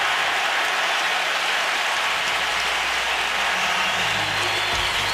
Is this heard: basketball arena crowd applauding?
yes